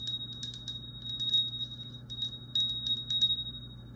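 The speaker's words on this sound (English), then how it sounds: "let's start off with the bell, actually" A small high-pitched bell rung in several quick clusters of strikes with short pauses between, bright and ringing, close and alone in a quiet room with a faint low hum beneath.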